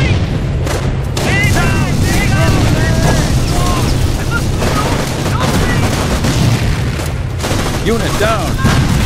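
Loud bursts of rifle and machine-gun fire with booming artillery in Company of Heroes, German troops at the Battle of the Falaise Pocket; shots crackle near and far continuously while soldiers shout over the battle.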